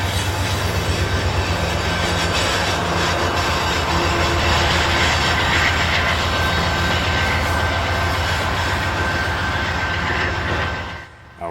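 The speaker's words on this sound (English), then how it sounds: "we watch CP Train 603, a loaded K&S potash train leaving the CN Subdivision and onto Canadian Pacific's Page Subdivision" Canadian Pacific Train 603, a loaded K&S potash freight, rolls past on the Page Subdivision with a steady, loud rumble of railcars and wheel clatter throughout, cutting off abruptly at the end.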